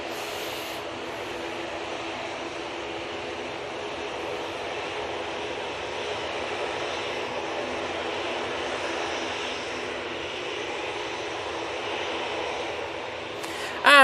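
A Jet2 airliner leased from ETF Airways at Manchester Airport gives a steady, moderately loud jet engine roar that holds broadband and even throughout, with no talk over it.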